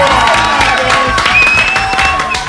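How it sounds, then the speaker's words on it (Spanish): Crowd applause with cheering and whoops at a live broadcast event, a dense loud burst of clapping and shouting sustained throughout. "Fuerte el aplauso para ABC BIM."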